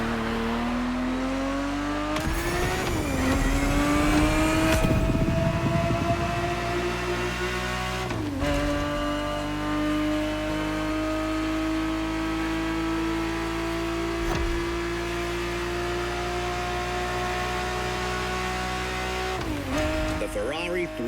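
A 1970s Ferrari 365 GTB4 engine in a racing video game revs and climbs through gears in steady, rising pulls, with brief dips at each shift and a loud, continuous tone throughout.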